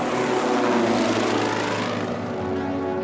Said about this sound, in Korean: 미군의 최신형 폭격기 B-29 279대는 도쿄로 출발했다